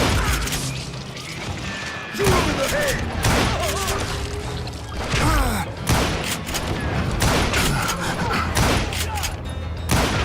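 Gunfire in the Western shooter Call of Juarez: Gunslinger, with repeated loud shots and impacts over a busy, dense game soundscape, and a voice talking over parts of the fight.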